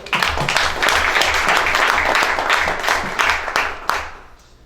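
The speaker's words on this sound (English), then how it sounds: "Let's give a round of applause for Shield" Dense, loud applause from an audience at a Founders Live startup pitch event in Minneapolis, welcoming the next presenter; the clapping holds steady for several seconds, then tapers off at the end.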